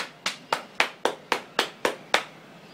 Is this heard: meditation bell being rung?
no